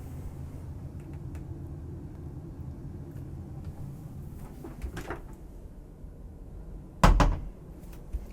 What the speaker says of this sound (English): And there's a magnet up in the ceiling. That's the noise you heard.